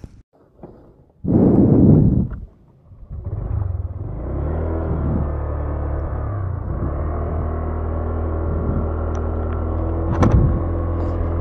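A Honda Click 125 motor scooter rides along with a steady, close engine hum after a brief loud rumble at the start, keeping an even drone with slight rises throughout.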